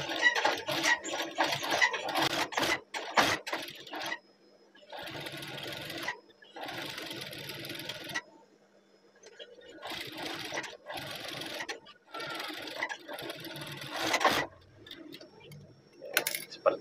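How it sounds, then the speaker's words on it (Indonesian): Sewing machine running a second line of topstitching on a uniform badge, heard up close in several bursts of rapid mechanical stitching separated by short pauses. "Lalu jahit di sisi yang sebelahnya atau stikan yang kedua."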